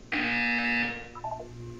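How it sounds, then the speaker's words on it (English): An electronic buzzer in the Portal 2 video game gives one sustained harsh tone of about a second, then a short stepped electronic chirp follows as it fades over a low background hum. "You will hear a buzzer."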